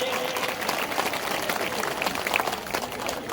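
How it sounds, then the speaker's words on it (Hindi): A crowd at a political beneficiaries' gathering in Gwalior breaks into dense, sustained applause, steady clapping filling the space for a few seconds without a distinct voice over it. "अगर होना चाहिए तो बजाओ ताली महिलाओं के लिए"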